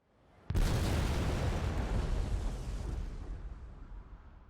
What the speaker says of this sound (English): That was a much bigger explosion than I anticipated.